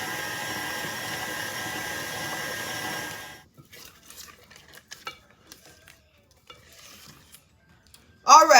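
Pound cake batter is stirred as an egg is mixed in, a steady scraping and whirring for a few seconds, then brief light clinks and taps of utensils at close range.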